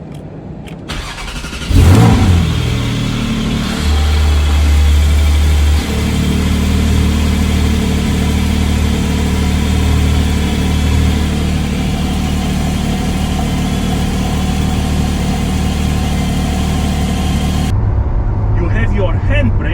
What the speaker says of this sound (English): While cold, the engine has a lot of vibrations that you feel and hear.